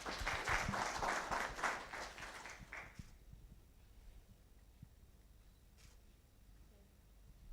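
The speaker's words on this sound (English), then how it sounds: "A clap." An audience at a Kenyan roadshow event claps for about three seconds, a burst of applause that fades quickly into quiet room tone with a faint stray clap afterward.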